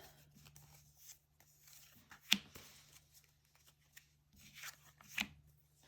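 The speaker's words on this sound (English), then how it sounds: "I could shuffle it in other ways" Quiet, close-up tarot card shuffling: soft rustles and a few sharper taps as the deck is cut, in an irregular rhythm.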